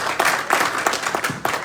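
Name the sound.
convention audience round of applause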